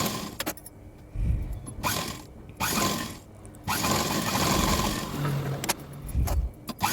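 Sewing machine stitching the back neck of a blouse, with bursts of whirring, clattering mechanism separated by short pauses, close and fairly loud, and no talk.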